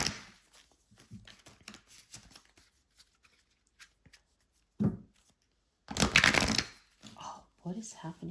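Tarot cards being shuffled by hand, with bursts of riffling and a louder flurry near the end, separated by quiet gaps and soft handling taps, while someone talks between the shuffles.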